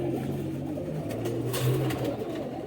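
Rampuri pigeons cooing in a low, continuous murmur of overlapping coos, close and steady throughout with no talking.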